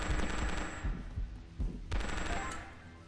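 Rapid bursts of submachine gun fire in the Prohibition 1930 video game, loud and close, with several short volleys separated by brief gaps.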